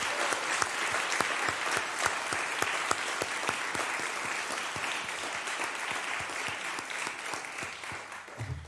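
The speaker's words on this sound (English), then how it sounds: "So if we could just have a round of applause for Gordy." Steady applause from an audience at an annual meeting, honouring an outgoing committee chair; dense, continuous clapping fills the room for about nine seconds and tapers slightly at the end.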